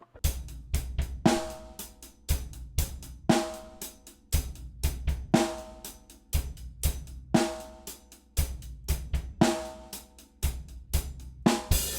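A slow drum groove, kick and snare hits with cymbal wash, played alone in a steady repeating pattern, loud and close.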